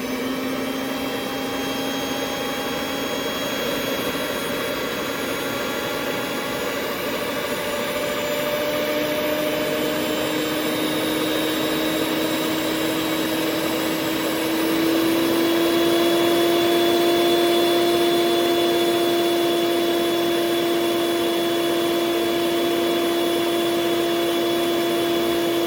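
A kitchen stand mixer runs steadily while kneading homemade bread dough, a loud continuous motor whine with a pitch that rises slightly partway through, heard alone without talk.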